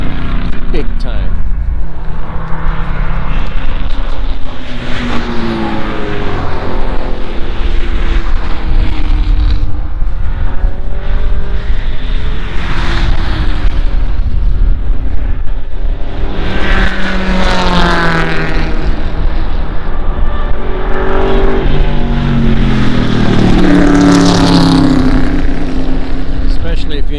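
An old Corvette race car at Ozarks International Raceway roars loudly in-car, the engine rising and falling through gear changes and dips, with people talking over it.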